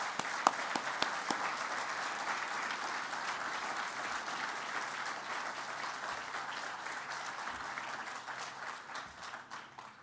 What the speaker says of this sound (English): I would like, please, a round of applause for our colleagues from the UK.